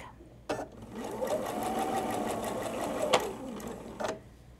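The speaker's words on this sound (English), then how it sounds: "guiding it with the stiletto at the sewing machine to keep control of your fabric." A sewing machine stitching quilt fabric for a Civil War sampler, fabric guided with a stiletto, a close continuous mechanical whir of stitching framed by sharp clicks at the start and end of the run.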